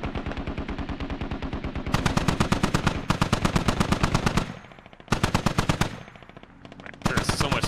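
Long bursts of SAW machine gun fire in a military shooter game, rapid steady rounds rattling in several bursts with short gaps between them, loud and close.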